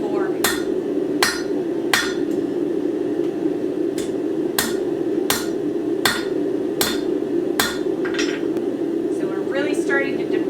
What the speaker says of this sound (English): we're going to hammer that back to get that nice shelf in there